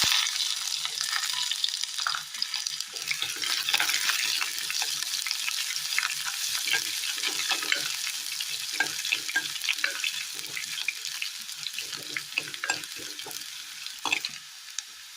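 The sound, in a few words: chopped small onions frying with mustard seeds in oil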